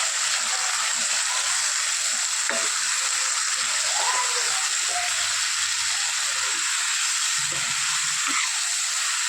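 Homemade pizza sauce of tomato, oregano and coriander is stirred in a hot pan, giving a steady, loud sizzle with soft scrapes and clinks of the spoon running through it.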